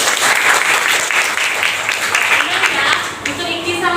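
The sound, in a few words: class applauding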